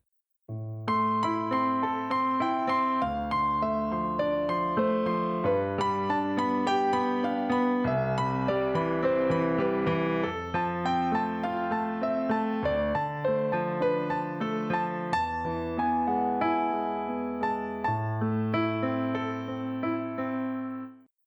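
A Passacaglia played on piano with both hands, a steady bass line under a flowing melody, continuous and clear with no voices.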